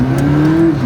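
A car engine held at a light throttle blip, a steady close, loud motor tone that rises slightly and then eases off in under a second.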